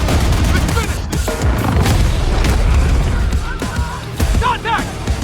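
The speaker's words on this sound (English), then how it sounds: "the buildings getting destroyed is so cool" Heavy booms and crumbling blasts as buildings are destroyed in Battlefield 6 combat, loud and dense with gunfire mixed in, under game voices and music.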